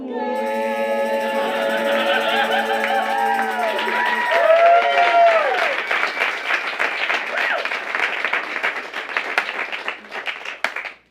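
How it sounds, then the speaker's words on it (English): Audience applause and cheering at a live comedy stage show, starting under sustained sung or shouted voices, then swelling into loud clapping with whoops before tapering off at the end. "Genuine applause."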